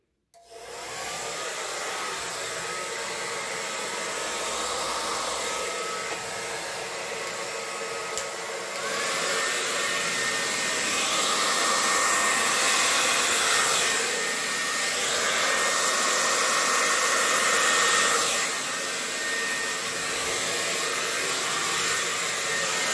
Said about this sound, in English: And now I'm going to take the blow dryer and I'm going to blow that white over the colors.